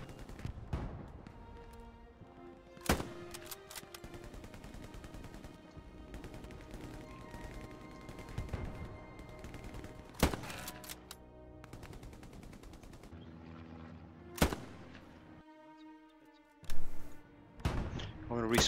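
Machine-gun fire in the World War II shooter Hell Let Loose rattles in sharp bursts and single loud cracks at irregular intervals, some close and some farther off, with a few heavier booms mixed in.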